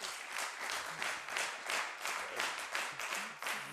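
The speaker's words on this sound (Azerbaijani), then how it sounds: "hər ikiniz də ürəkdən alqışlar" A studio audience at an evening entertainment show claps in a lively, pulsing burst, the applause rising and falling in quick waves at a moderate, slightly distant level.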